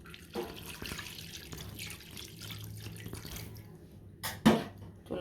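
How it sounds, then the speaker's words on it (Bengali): Water splashes and trickles into a cooking pan in a kitchen, a soft continuous pour with one sharper splash near the end. "এখন এই যে পানি দিয়ে দেব।"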